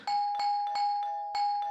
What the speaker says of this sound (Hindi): कोई कब से बेल बजा रहा है